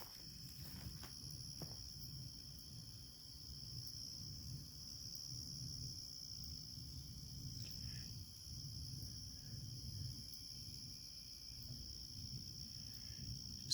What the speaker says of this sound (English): Some crickets and the other sounds up there.